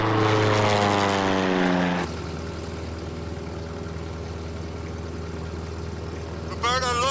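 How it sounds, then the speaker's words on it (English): A propeller airplane flies overhead in the Alaskan wilderness, its engine drone loud and steady. The pitch sweeps down as it passes at first, then holds a constant hum. "There's a plane."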